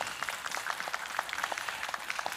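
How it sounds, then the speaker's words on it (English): Steady audience applause for vocalists at a Houston Juneteenth celebration, many hands clapping at once in a continuous, moderately loud wash with individual claps standing out. "let's give a round of applause for our amazing vocalists again"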